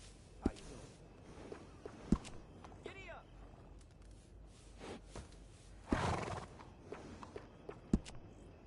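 Horses in Red Dead Redemption 2 at a stable: a few sharp hoof thuds and stamps spaced across the scene, a quavering whinny partway through, and a brief louder rustling burst, all fairly close under low background ambience.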